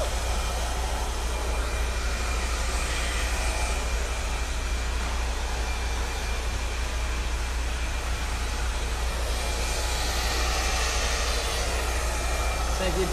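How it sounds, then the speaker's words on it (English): A hair dryer used for styling a short women's haircut blows with a steady, loud motor hum and airflow, running continuously, with someone talking over it. "Let's pick up the dryer."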